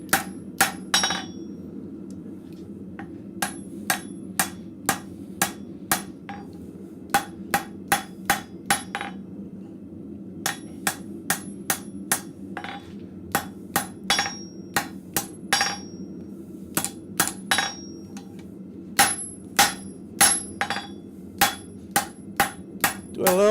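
A blacksmith hammers steel tapers straight on an anvil in a forge shop, with dozens of sharp, ringing metallic strikes in irregular bursts over a steady low background hum.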